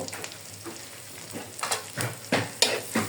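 Chopped onion and green chili fry in a little oil, a steady sizzle broken by several sharp scraping stirs that grow louder toward the end, with no voices.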